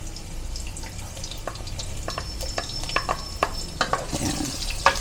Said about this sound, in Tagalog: maggisa tayo ng sibuyas muna